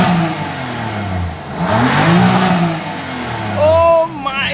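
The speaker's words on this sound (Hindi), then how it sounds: "तो स्टॉक एग्जॉस्ट सुनो पहले, ये भी स्टॉक नोट" A 453hp car revs on its stock exhaust, with a deep, loud engine note that swells and falls in a couple of rises, finishing with a sharper rev near the end.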